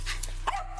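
A dog gives a few short yips and barks close by during a chaotic confrontation inside a condo, quick sharp bursts over a constant low hum.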